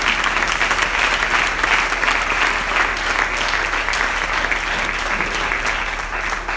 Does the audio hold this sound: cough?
no